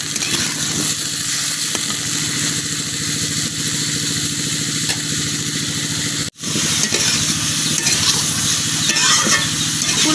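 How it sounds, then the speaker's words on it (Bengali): Cauliflower fries with onions in a pan and is stirred repeatedly, making a loud, continuous sizzle with scraping strokes and a brief dropout partway through. "এখন ফুলকপিগুলো কিছুক্ষণ ভাজা নিলাম।"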